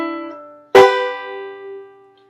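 A banjo plays a short phrase in 3/4 time, with a sustained note fading, then a bright plucked chord that rings out and slowly decays, near and clear.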